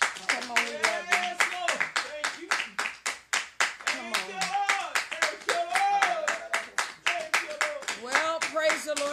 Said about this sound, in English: Come on, somebody clap your hands.